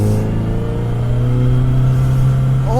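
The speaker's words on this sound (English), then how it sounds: "Keep it in second. Let's keep it in seconds. Rev the fuck out of it." Kawasaki motorcycle engine held in second gear and revved hard on a desert park road, a loud, close, sustained roar with rising pitch toward the end and no talk.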